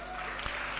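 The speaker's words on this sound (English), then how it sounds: "Please give her a big round of applause." Clapping from an audience at a school annual day function, a steady wash of applause with a couple of sharper claps standing out near the end, heard at a moderate distance.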